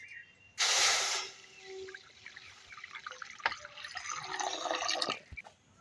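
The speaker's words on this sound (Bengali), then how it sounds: "জলটা গরম হয়ে গেছে, এবার পালং শাকগুলো দিয়ে দেবো।" Spinach leaves drop into a pot of hot water with a brief loud splash and hiss, followed by quieter bubbling and light dripping close by.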